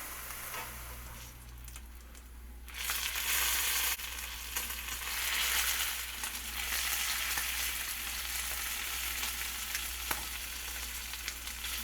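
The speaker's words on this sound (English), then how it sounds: "That is frying up really good." Thick-cut homemade bacon from pork belly frying in a pan, a steady crackling sizzle with bright popping spatters that grows louder after a quiet start and continues throughout.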